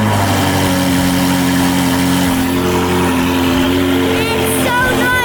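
A Ferrari project car engine idling up close, loud and steady with a deep, even mechanical drone throughout and a brief higher chirp near the end.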